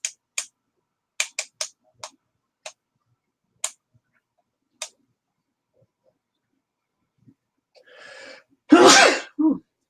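After a scatter of faint sharp ticks and clicks, a person sneezes loudly nearby, a quick intake building into one forceful burst near the end.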